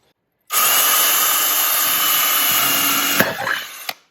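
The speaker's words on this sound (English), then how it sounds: "we're going to put some holes along the bottom of the can" Power drill boring holes in a metal can for a camp stove, a steady close whine that runs for about three seconds, then sharp scraping bites as the bit breaks through before it stops.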